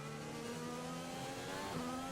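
A Formula 1 race car engine in F1 2020 during a night race hums at high revs, a continuous tonal whine shifting pitch slightly as gears change, quiet and steady with no talk.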